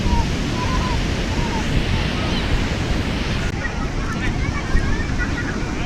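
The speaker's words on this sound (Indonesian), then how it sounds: "Ombaknya juga kenceng." Ocean waves break at Ambal beach in Kebumen, a strong, wide-open surf roar that runs continuously and loudly throughout, with wind buffeting the microphone.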